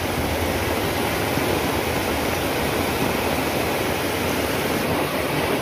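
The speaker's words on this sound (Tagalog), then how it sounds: "Yan yung kanal na ni Junjun mga kaibigan, oh. Para diretso lang yung tubig" Water rushing through a drainage canal on a small backyard farm, a steady, dense broadband wash that holds even and fairly loud throughout, with no voices.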